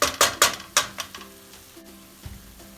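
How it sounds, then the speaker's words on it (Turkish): Green beans sautéing in olive oil in a pan for a Turkish-style dish, a close sizzle with several quick stirring scrapes and clinks at the start that settle into a quieter fry. "Fasulyemiz biraz kavruldu."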